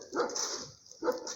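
Dogs bark on a street where many pit bulls and pit bull mixes are kept, two sharp, fairly close barks about a second apart over a faint high background hiss.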